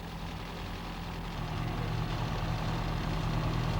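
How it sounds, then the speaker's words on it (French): A Citroën CX Turbo2 diesel idles steadily with the electric cooling fan switched off, a constant low mechanical rumble with a faint knocking texture, close and unchanging, with no voices. "Le moteur étant en marche et le motoventilateur à l'arrêt"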